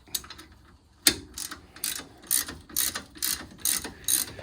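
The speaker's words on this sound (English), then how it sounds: "You'll take your bolt and tighten her up." A hand ratchet tightens a brake caliper bolt on a car that sat for ten years, rapid bursts of metallic clicking repeated in a steady back-and-forth rhythm, close and clear with no talking.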